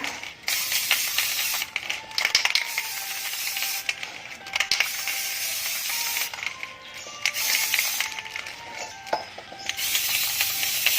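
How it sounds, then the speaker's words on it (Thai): Orange spray paint hisses from an aerosol can onto a plant pot in steady bursts with brief pauses between them, close and fairly loud, with no voices. "แล้วเราก็จะนำไปพ่นสีสเปรย์กันเลยค่ะ"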